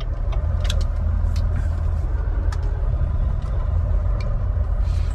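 A heavy truck engine rumbles low and steady while driving, with faint clanks and brief hissing bursts on top, continuous throughout and no talking.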